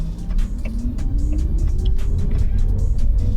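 A Maserati GranTurismo Folgore electric car switched to sport mode cruising at about 80 km/h: a loud, close, steady rumble from inside the cabin, with a synthetic engine-like tone slowly climbing in pitch throughout.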